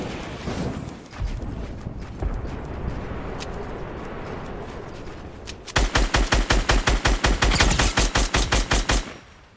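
Rapid automatic gunfire in the video game Fortnite erupts in a loud, steady burst after a stretch of scattered shots and rumbling background noise, with no one talking.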